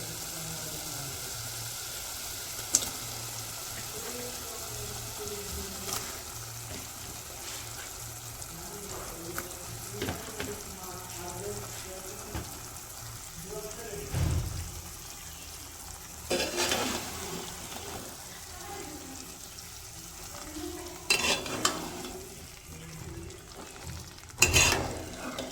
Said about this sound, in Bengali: এখন হচ্ছে মাংসগুলো দিয়ে দিই।